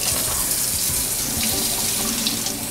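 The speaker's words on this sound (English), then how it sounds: "First, turn on the water and soak your hands." Steady tap water runs into a sink for hand washing, a constant close splashing rush with no voices.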